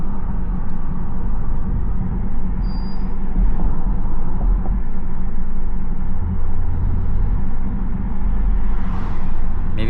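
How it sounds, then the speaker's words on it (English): A steady, deep engine rumble from a Porsche Cayenne Turbo with a secondary catalytic converter bypass, low and continuous, holding at a constant level with no talk over it. "you can definitely hear that exhaust"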